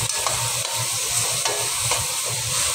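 Adobo being stirred in a cooking pot, with a steady frying sizzle and a few scraping stirs close by.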